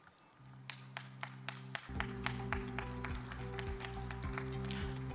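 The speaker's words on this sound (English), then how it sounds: "Ladies and gentlemen, we give a big clap" Scattered, fairly faint clapping from an audience at a dairy industry conference in Telangana, mixed with a sustained musical drone that grows louder partway through.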